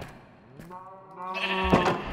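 Sheep in a Minecraft-style modded game bleat in a clear, close wavering call that swells louder in its second half, with a brief noisy burst near the end.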